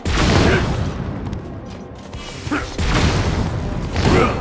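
Cannon blasts in a Zelda: Tears of the Kingdom final battle: two loud booming bursts with rumbling low end, one near the start and one near the end, separated by a sharp crack and a quieter stretch in between, no talking.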